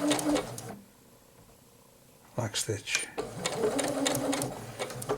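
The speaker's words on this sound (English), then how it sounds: "I'm going to do a lock stitch, going forward and a lock stitch, back" A Janome 8077 sewing machine runs a short forward burst, pauses in near silence, then stitches again in quick back-and-forth lock-stitch bursts, close and fairly loud with a voice speaking over it.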